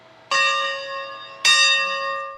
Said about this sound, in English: They've already polished up 557's new bell.